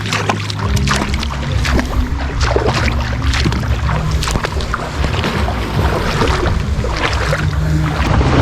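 A small wooden fishing boat (bangka) runs on open water under a darkening sky, its steady low engine drone and water wash continuous and loud, with wind buffeting the microphone throughout.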